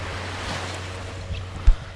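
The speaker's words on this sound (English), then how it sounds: "Oh my God, I love the waves crashing." Ocean waves wash in continuously against an island shoreline, a steady broadband surf roar with wind noise on the microphone and a brief louder thump near the end.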